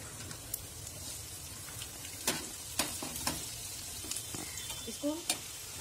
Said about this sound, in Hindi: ये हम डीप फ्राई करेंगे, इसके लिए ज़्यादा ऑयल चाहिए। ऑयल को भी थोड़ा गर्म होने देंगे। देखिए, ऑयल हमारा गर्म हो चुका है। इसमें हम फ्रेंच फ्राई डालेंगे।